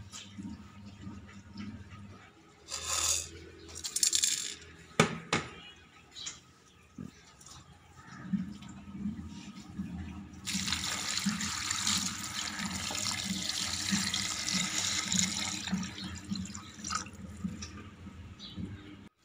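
Water pours steadily into a cooking pot holding chicken feet, ginger and spices for soup, for several seconds, preceded by clinks and handling noises nearby.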